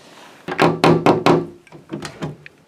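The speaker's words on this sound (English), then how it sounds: "Someone's at the door." Knocking on a door: a first burst of four firm, evenly spaced wooden raps, then a softer, quicker second set of three or four knocks, close and resonant with no talking.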